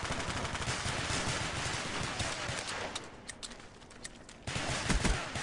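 Rapid gunfire from an online gun game match rattles in dense, continuous bursts, easing briefly before the shooting picks up again near the end.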